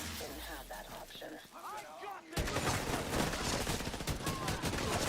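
AK rifle fire in The Division 2, rapid bursts of gunshots crackling densely through the second half, loud and continuous after muffled talking and softer sounds at the start.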